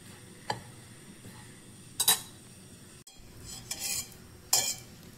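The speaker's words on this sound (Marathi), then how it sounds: "1 चमच बेसन घेतलेले। बेसन मस्त भुनायचे आपल्याला," Besan (gram flour) dry-roasting in a hot pan, heard as a few scattered scrapes and clinks of a spoon against the pan over a low background hum, with no talking.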